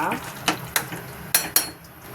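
A utensil stirring pasta clinks and scrapes against a metal pressure cooker pot several times in an irregular rhythm, close and fairly loud.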